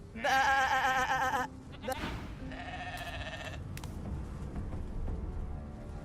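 A sheep in the video game Divinity: Original Sin 2 gives two loud, nasal bleats, one long and one shorter, against a quiet game backdrop.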